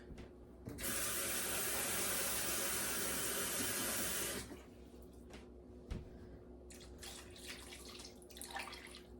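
Water pours steadily from a tap into a crock pot of potatoes, a loud, dense rush lasting a few seconds before stopping, followed by quieter kitchen handling sounds.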